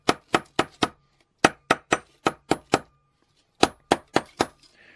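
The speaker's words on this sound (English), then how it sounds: "And I'm going to keep hammering that." A hammer strikes copper sheet being shaped into leaves, ringing metallic blows in quick groups of four or five with short pauses between, close and crisp with no talk.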